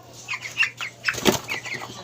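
A chicken flaps its wings in several quick fluttering bursts, close by, with no voices.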